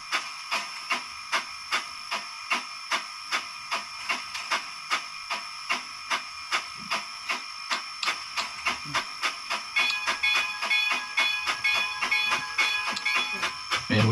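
Bachmann Climax model steam locomotive with a sound decoder gives off a steady run of rhythmic chuffs with a hissing blower underneath, and a whistle-like tone joins partway through; quiet and close.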